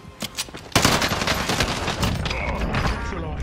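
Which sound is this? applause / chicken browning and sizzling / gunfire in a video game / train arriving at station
gunfire in a video game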